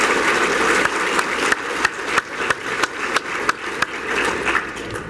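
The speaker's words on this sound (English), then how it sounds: "Let's give them a round of applause." Audience applause for Bay Future staff members at an annual business meeting, a steady wash of clapping from a crowd with a few sharper individual claps standing out, sustained throughout without talk.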